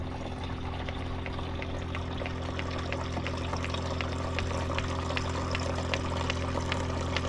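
Water pours steadily into a bucket in a boat bilge setting, a continuous splashing rush with a low mechanical hum beneath it, no voices.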